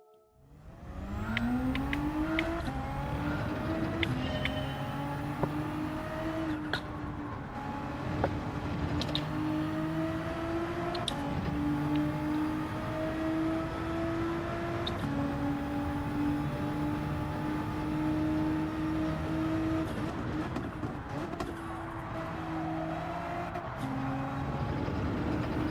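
A GTR race car engine in Gran Turismo 7 holds a loud, sustained whine, rising through gears over and over with brief shift breaks, the note climbing and dropping across a long stretch with no talking.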